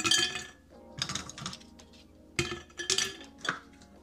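Several sharp clinks and clatters of ice cubes dropping into a glass, coming in scattered bursts, close and fairly loud.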